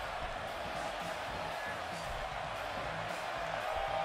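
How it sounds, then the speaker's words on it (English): Crowd noise from a WWE wrestling video game, a steady dense roar of cheering arena fans, continuous and even throughout, with no distinct voices on top. "And Michael, it sounds to me like this crowd already picked the one who they want to win this match"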